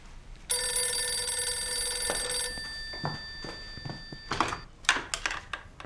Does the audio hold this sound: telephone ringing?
yes